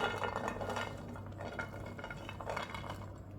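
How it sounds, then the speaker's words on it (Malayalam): Chilies and shallots drop into a pan while cooking a long beans stir fry, a few soft clinks and light rattles of metal and vegetables, quiet and close with brief clattering bursts. "ആദ്യം തന്നെ ഒരു പാനിലോട്ട് നമുക്ക് ഇതെല്ലാം കൂടെ അങ്ങോട്ട് ഇട്ട് കൊടുക്കാം"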